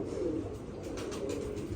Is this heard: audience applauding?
no